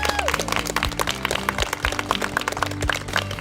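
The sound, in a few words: applause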